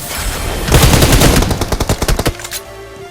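Rapid automatic gunfire from a PUBG squad match crackles in loud, dense bursts, then thins into a string of distinct, evenly spaced shots before tapering off.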